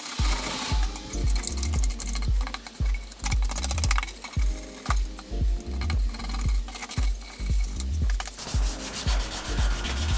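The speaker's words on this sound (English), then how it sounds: "which I just hit with a bit of sandpaper and then just scuffed the whole cover" A paint-stripped engine rocker cover from an S15 Silvia is scuffed by hand with 400 grit sandpaper, making fast, rhythmic rasping strokes that repeat steadily and close up, with no talking.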